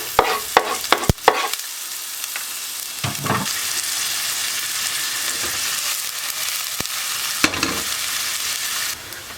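Onion and cumin fry in oil with a bright, continuous sizzle, broken early on by several sharp utensil clacks and a few bursts of louder crackling, close up and with no talk.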